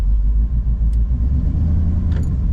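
A supercharged Oldsmobile Cutlass on slicks sits ready for an eighth-mile drag run, its engine giving a loud, steady low rumble close by, with no clear launch surge.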